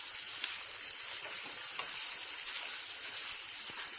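Steady, close sizzle of water hitting a pan of frying masala for a Bengali fish and potato curry, a dense hiss running evenly throughout with faint crackles.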